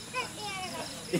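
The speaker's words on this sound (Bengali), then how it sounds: "ঝিঝি পোকা ডাকছে" Crickets chirping at night at the edge of the forest near Jaldapara, a faint, brief trill in a quiet night ambience.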